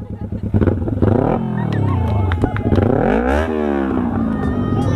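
A motorcycle engine revs loudly up and down in several bursts, with people talking over it.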